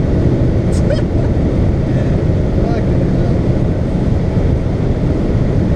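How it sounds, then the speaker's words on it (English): Heavy, constant wind rush and low road roar fill the cabin of a moving BMW 335 coupe, loud and unbroken throughout, with no clear talk over it. "You're always gonna get that wind."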